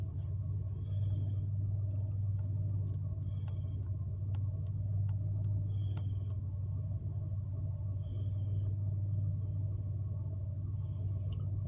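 A car engine idles steadily at about 750 RPM, a low, even rumble that stays constant throughout with faint ticking above it and no talk.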